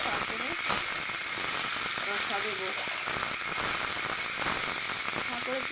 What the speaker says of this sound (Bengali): পেঁয়াজ দিয়ে আর একটু লাল করে দিয়ে দিয়ে তারপরে মশলা দেবো